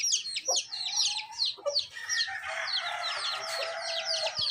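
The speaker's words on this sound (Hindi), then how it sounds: "उसके बाद एक ये है मुर्गा" A rooster crows loudly and close by in a village, mixed with rapid clucking and squawking calls that run almost continuously.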